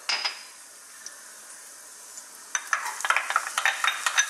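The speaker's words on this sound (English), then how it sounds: "So, in goes our garlic." Garlic dropped into hot sunflower oil in a wok, faint at first, then a bright crackling sizzle with sharp spits and pops bursting up after a couple of seconds, close and moderately loud.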